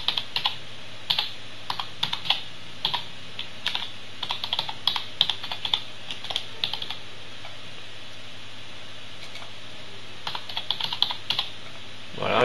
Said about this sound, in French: Et là, je tape mes identifiants Windows Live Messenger.